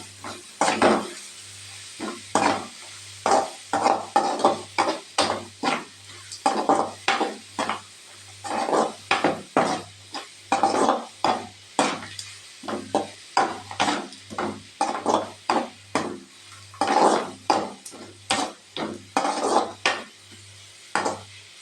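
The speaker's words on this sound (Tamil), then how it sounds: "முக்கால்வாசி வெந்தோன்னே நம்ம வெட்டி வச்சுருக்கிற 50 கிராம் கேரட் அது கூட சேர்த்து நல்லா மிக்ஸ் பண்ணிக்கலாங்க" Carrot and capsicum are stirred in a pan for carrot rice, with a spoon scraping and knocking in a steady rhythm of repeated strokes over a low background hum, close and without talk.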